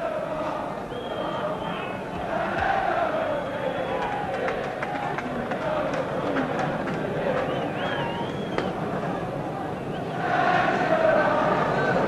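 Football crowd at an Oxford United cup tie, a continuous murmuring roar of many voices with swells of noise, rising louder near the end, under a commentator's voice.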